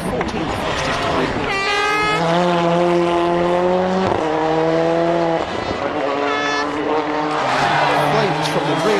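Toni Gardemeister's rally car on a WRC stage at the 2002 Catalunya rally, loud engine with sweeping rev changes and gear shifts, with crowd noise and horns.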